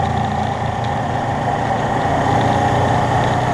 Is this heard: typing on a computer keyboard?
no